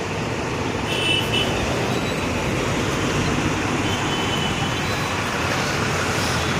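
Road traffic on a rain-soaked highway during a jam, a steady broad rumble and hiss of passing vehicles and tyres on wet tarmac, continuous and fairly loud with no talk.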